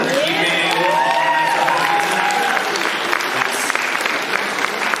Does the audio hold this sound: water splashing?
no